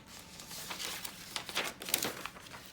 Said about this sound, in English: gonna take a piece of butcher paper.